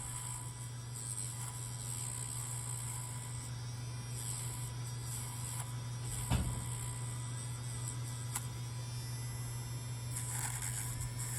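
An electric baby nail trimmer runs on a child's nails, giving a thin, steady, close buzzing whine with slight shifts in tone and a brief knock partway through.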